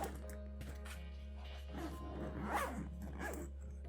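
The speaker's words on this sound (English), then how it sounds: "Zip this up." A zipper being drawn shut on a camera gear bag packed with drone equipment, a steady rasping pull lasting several seconds, close and clear over a low background hum.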